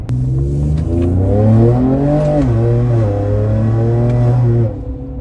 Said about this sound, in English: If you do get offended over loud noises, don't buy this exhaust system.